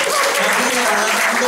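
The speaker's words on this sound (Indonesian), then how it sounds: "Mari tepuk tangan bagi istri." Steady, dense applause from a church audience fills the brief moment, the clapping continuous and close without pause.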